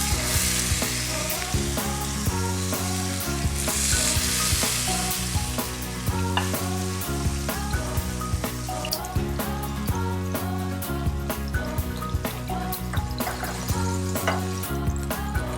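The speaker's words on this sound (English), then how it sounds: "I'm going to put the salmon skin side down." A salmon fillet lies skin side down in a very hot pan, giving a loud, steady sizzle and crackle that runs unbroken for the whole stretch, with no voices.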